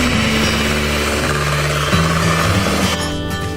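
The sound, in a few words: electric mixer whisking pancake batter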